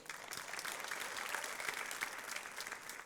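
Audience at a university onboarding week event applauding, steady even clapping from a crowd, faint and distant throughout.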